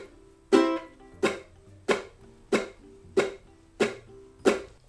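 Ukulele chucking strum played at speed: seven sharp percussive muted strums, each with a brief bright chord ring, in a steady even rhythm, close and clear with no talking.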